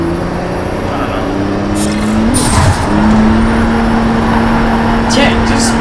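A race car engine in Project Cars 3 holds a steady drone, rising briefly as it revs through a shift. The engine is close and loud, and a voice talks over it.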